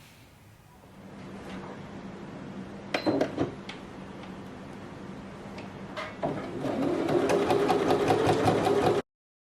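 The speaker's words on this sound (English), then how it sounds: "you're going to go ahead and top stitch it from one end all the way down to the other end" A sewing machine top stitches along a knit wrap skirt waistband, humming low at first, then a few clattering knocks, then a faster steady whir of stitching that cuts off abruptly, close by.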